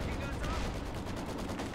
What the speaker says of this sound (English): Mortar carriage opening fire